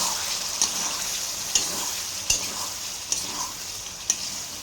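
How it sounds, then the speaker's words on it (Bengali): Lentils (dal) being stirred in a frying pan, a steady hiss of sizzling with rhythmic spoon scrapes and taps roughly every second, close and without speech. "এবার আমি ডালটাকে ঢেলে দেব একটু নেড়ে দেবো সুন্দর করে"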